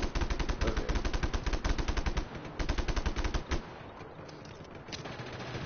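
Rapid automatic gunfire from the video game Just Cause 3, dense bursts of loud shots for over three seconds, then scattered distant shots and combat noise with no talking.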